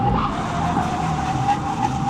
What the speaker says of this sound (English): Stay here for the brake test.